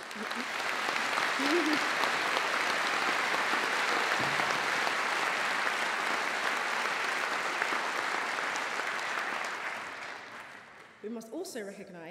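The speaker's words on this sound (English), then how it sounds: "join me in giving our talented musicians from Birmingham Conservatoire, directed by Professor Chris Halding, a warm round of applause" Sustained, loud applause from a graduation audience at Birmingham City University for Birmingham Conservatoire musicians, dense clapping holding steady for about ten seconds before thinning out, with a few voices and scattered claps at the end.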